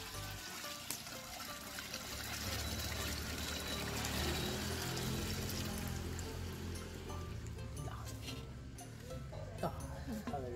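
Melted jaggery poured through a strainer into a large pot for Kerala rice payasam, a steady liquid pouring and trickling sound, close, with speech faintly under it.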